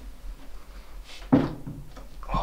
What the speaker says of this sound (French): Je vais essayer d'ouvrir les placards pour voir ce qu'il y a dedans.